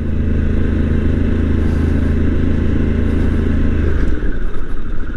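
A Harley-Davidson Pan America adventure motorcycle brakes hard off-road with ABS working, giving a loud, continuous engine rumble and rushing noise that shifts into rougher clatter near the end.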